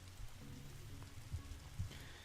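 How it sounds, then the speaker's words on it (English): Steady rain in the video game The Darkside Detective patters on a hard surface, a dense low rumble with occasional heavier drops, no voices. "Whenever standing in this rain stops being fun for you."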